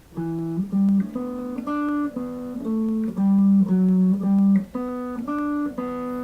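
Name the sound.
guitar riff played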